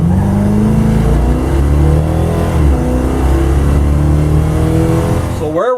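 Plymouth Duster with a sure-grip differential and upgraded gear ratio launching hard on a regular street, engine roaring loud and steady as it climbs through the revs right up close.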